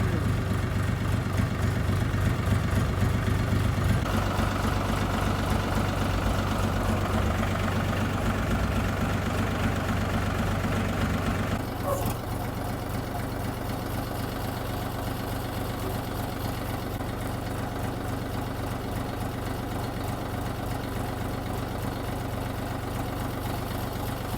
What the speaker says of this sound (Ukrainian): Сподіваюся, що звук роботи двигуна добре чутно.